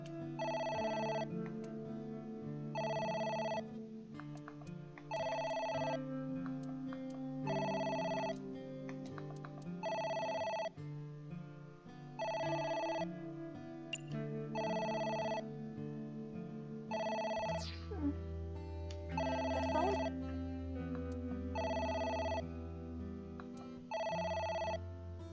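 Telephone ringing in AI: The Somnium Files, a repeating electronic ring in evenly spaced bursts over soft background music, sounding many times without pause.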